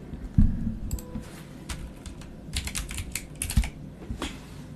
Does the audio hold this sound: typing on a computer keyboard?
yes